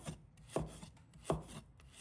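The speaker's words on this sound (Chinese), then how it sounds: "一块生姜，把它切成片。" Fresh ginger sliced with a knife on a board, two crisp, distinct cuts about three-quarters of a second apart over soft rubbing scrapes, close and fairly quiet, no voices.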